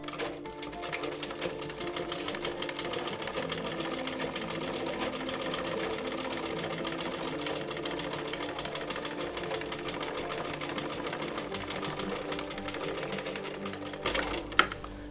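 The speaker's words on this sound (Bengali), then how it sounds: "এই সাইড থেকে সেলাইটা করবো। আর এই সেলাইটা করার সময় এই মানে সাইডের যে সেলাইটা করবো এখানে একটু ডাবল করে সেলাই করে দিব।" A sewing machine stitches the side seam of a homemade cloth face mask, running in a steady, continuous whir for the whole stretch, close and fairly loud, with no talk over it.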